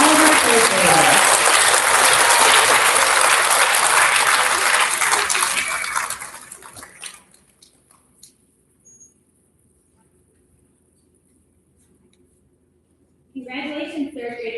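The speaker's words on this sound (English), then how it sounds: "let's have a big round of applause for all of our third graders" Loud applause from an elementary school audience at a student recognition ceremony for third graders, dense clapping that fades out by about seven seconds, followed by quiet and then a voice speaking near the end.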